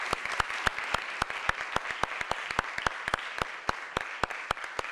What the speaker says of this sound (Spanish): os brindamos este aplauso ya de entrada